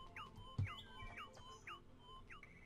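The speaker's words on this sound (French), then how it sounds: "c'est quoi le bruit d'oiseau?" Chirps from a bird in the video game Terraria repeat about five times at an even pace, quick and fairly faint over a quiet background.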